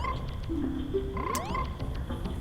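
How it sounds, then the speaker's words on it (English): A frog croaks in The Legend of Zelda: Majora's Mask, its bright croaks and rising chirps sounding over a steady bed of game music and ambience. "talk to the frog"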